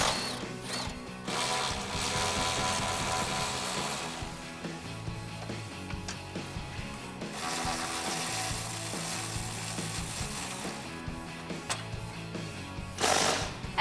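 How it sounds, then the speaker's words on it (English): Tools undo the exhaust hanger bolts on a 2015-2017 Mustang GT, producing bursts of rapid ratchet clicking and mechanical whirring separated by brief pauses, close but fairly quiet. "there's a second set of hanger bolts back here at the tips that you're going to have to undo as well"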